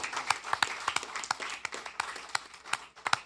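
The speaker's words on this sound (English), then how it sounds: "Give yourselves a big round of applause." Applause from a studio audience at a secondary school junior science quiz show, with scattered individual claps standing out in an uneven, moderately loud burst and no talk over it.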